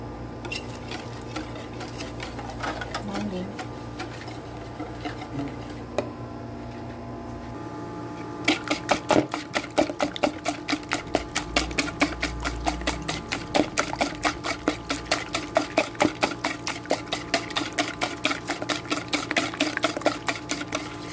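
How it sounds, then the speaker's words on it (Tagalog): A mixer runs through French toast batter, a steady buzzing whir with rapid rhythmic ticking that sets in partway and continues close and even to the end, after a quieter stretch of kitchen noise. "We're going to mix it."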